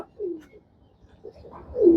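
Domestic pigeons, kept in a loft where they suffer breathing trouble, give soft low coos close by: one near the start, faint murmurs in between, and a louder, fuller coo toward the end, with no talking.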